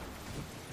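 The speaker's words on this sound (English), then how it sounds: "It is raining, too." Steady, dense video game rain in Guild Wars 2 hissing without a break, with a low rumble underneath and no other sounds standing out.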